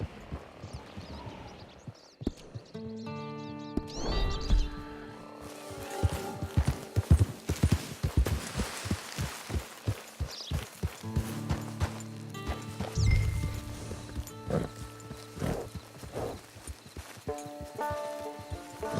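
Horse hooves clip-clop in a steady rhythmic gait in Red Dead Redemption 2 Online, close and distinct, with humming tonal music and occasional low rumbles underneath.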